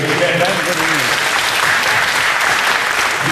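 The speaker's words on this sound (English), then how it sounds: "can applaud that great performance" A gala dinner crowd of a Jewish deaf association in London applauds a performance with steady, dense clapping, loud and continuous throughout, with a voice faintly audible under it early on.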